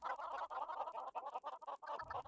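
Chickens cluck in quick, rapid bursts on a chicken farm in the video game DawnCraft, faint and close, with a brief lower rumble near the end.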